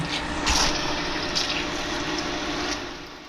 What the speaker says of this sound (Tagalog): Ayan, may tubig na.